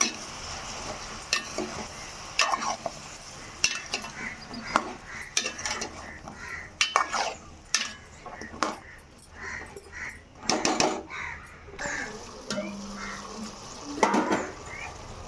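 Brinjal frying with onions in a pan for a dried-fish brinjal curry, sizzling softly under repeated scraping and clinking stirs of a metal spoon against the pan. The strokes come in irregular bursts, close and fairly quiet.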